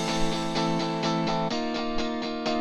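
UJAM Sparkle virtual guitar strummed dry with no effects, bright rhythmic chords repeating in steady even strokes, loud and close with no talking.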